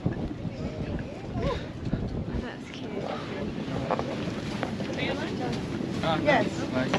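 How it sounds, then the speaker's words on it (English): Gusty wind buffets the microphone with low, uneven rumbling on the Empire State Building observation deck, while voices speak faintly underneath. "Oh, it's windy."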